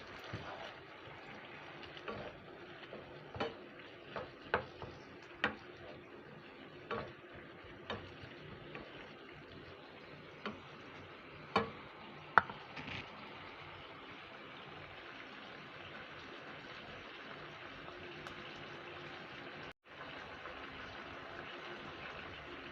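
Chilli chicken with fried chicken pakoras and a little added water is stirred in a frying pan, a spatula clicking and scraping in sparse, irregular strokes over a steady low sizzle.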